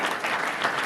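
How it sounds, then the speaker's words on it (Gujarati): Brief burst of audience clapping at a lecture on education, a dense patter of many hands lasting under a second. "તાળી પાડી લે, એમાં શું વાંધો જ છે?"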